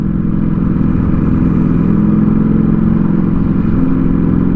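Ducati V4S Speciale motorcycle engine running steadily through a small village, its loud, continuous drone and throb reverberating off nearby house walls with no break for the whole stretch.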